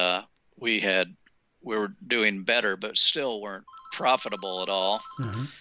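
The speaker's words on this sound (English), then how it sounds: "Sorry about the phone interruption." A telephone rings briefly and faintly in the background during a conversation, its electronic tone partly buried under steady male speech.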